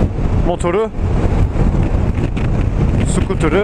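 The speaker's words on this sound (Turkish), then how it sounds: "Ama bugün çok rüzgar var ya. Kendi konuştuğumu duyamıyorum ha." Strong wind buffets the microphone outdoors as a man stands with his new Yamaha X-Max 250 scooter, loud rumbling gusts running continuously under and between his close, nearly drowned-out talk.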